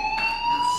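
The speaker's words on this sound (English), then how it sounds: "Hey, do you hear that fire alarm?" Brief, steady electronic fire alarm tone ringing through a school hallway in the video game Life Is Strange, a continuous loud whine with harmonics and no gaps.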